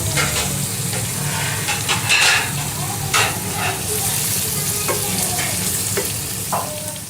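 Minced beef kofta fries loudly in a pan, a thick continuous sizzle layered with repeated scraping and clinking as it is stirred close up.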